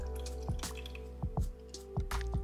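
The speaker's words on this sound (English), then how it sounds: "I'm filling it up with water and I just made a mess." Water poured and spilled while filling the reservoir of a steamer, heard as a few close, separate drips and squishy splashes over a steady low electrical hum.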